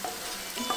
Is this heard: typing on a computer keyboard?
no